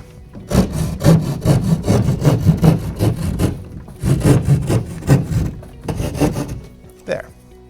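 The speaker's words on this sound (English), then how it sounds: "You've already committed to this location to cut a little view access hole." A hand saw cuts a small access hole in a wall, making quick, loud back-and-forth rasping strokes up close in two bursts, followed by a brief pause.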